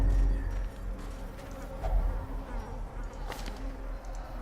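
A low, steady buzzing drone of an insect hive in Darkest Dungeon hums continuously and fairly loud, with a few faint higher game chimes over it.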